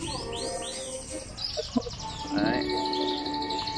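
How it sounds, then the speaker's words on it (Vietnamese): Red and white canaries chirping and warbling, with bright rising tweets and trills close by over a faint background, and a person briefly speaking between the calls. "chim rất là đẹp, Hồng Yến và Bạch Yến"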